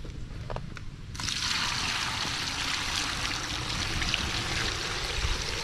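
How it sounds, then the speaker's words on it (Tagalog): Water pours steadily in a continuous splashing stream after a brief quieter start, close and fairly loud with no talking. "Ito tubig."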